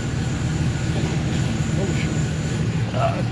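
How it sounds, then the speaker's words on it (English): A 1996 Chevrolet Impala SS with an LS engine swap runs loudly at idle, a steady, close, deep rumble that fills the whole stretch without pause. "Car's kind of loud."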